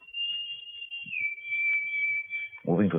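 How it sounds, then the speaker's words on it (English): A human whistle from a radio drama, a single long sustained note followed by a brief low voice at the end, over near silence. "there was an answering whistle"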